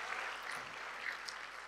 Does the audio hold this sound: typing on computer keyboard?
no